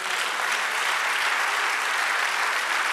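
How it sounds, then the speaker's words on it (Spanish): A church congregation at a pastor's sermon breaks into steady, dense applause, many hands clapping together at an even level from start to finish, with no speech over it. "eso merece un aplauso."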